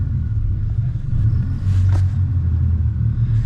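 A Yamaha F200 outboard on a 2025 Hewescraft 220 Ocean Pro boat runs with a steady low rumble, close and loud, with a slight rise in pitch partway through.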